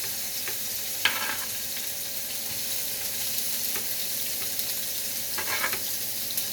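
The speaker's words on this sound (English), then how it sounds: "Start frying them up." Pork cubes sizzle steadily in a hot skillet, a soft constant hiss broken by a few sharper pops and crackles.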